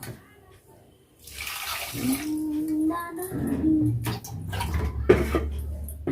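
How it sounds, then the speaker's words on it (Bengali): Tap water runs steadily into a pot of rice being washed in a home kitchen, with splashing and a few clinks of the vessel, preceded by a brief quiet moment. "চালটাকে ধুয়ে নিয়ে তারপর ধোবো"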